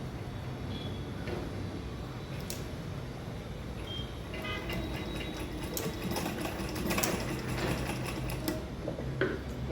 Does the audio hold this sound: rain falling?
no